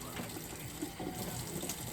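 A tap runs steadily into a bathroom sink as water is splashed for washing a face, a faint, continuous hiss with small splashes, without talk.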